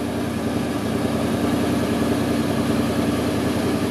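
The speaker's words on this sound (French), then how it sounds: "Double sortie d'échappement, alors un joli son, mais malgré tout discret." A 1967 Ford Galaxie 500 with dual exhaust idles steadily and evenly. The engine gives a loud, close, continuous low rumble that never changes pace, with no one talking.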